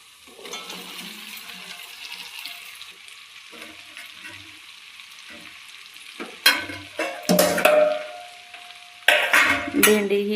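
Okra dropped into hot spiced oil with half a lemon in the pan, a steady close sizzle with stirring, then louder bursts of spattering and clattering as the pieces hit the oil, with no talking.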